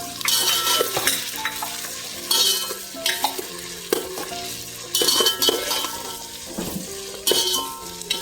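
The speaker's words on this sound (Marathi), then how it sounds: "आता आपण हे छान परतून घेऊ" Marinated chicken sautéed with ginger-garlic paste in oil for chicken biryani, a loud close sizzle broken by repeated metal spoon scrapes and clinks against the pan in uneven bursts.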